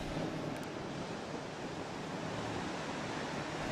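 Ocean waves and constant spray at sea make a loud, steady roaring wash with no break or clear surges, like wind-driven water hammering close to the microphone.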